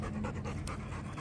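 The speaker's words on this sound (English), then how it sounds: "Oh, there's my dog." A dog pants quickly and steadily close by, soft rapid breaths in a short burst.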